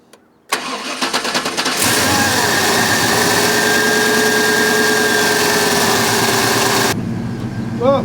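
Chevy Vortec 7.4L V8, diagnosed for rough running after a fuel pressure regulator change, cranking with a whirring starter, catching and settling into a loud, steady close-up idle for several seconds.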